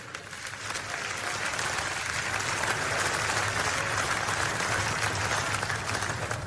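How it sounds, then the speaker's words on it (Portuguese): A church congregation claps together during a service, producing sustained, dense applause that swells after a brief start and holds steadily throughout. "Vamos lá, glorifica o Senhor com palmas aí."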